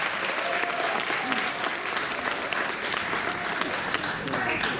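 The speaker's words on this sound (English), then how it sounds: "Give another big round of applause." An audience at a magic show during a Fright Fest event at an amusement park gives a round of applause, even and sustained clapping heard at moderate distance, with no talk over it.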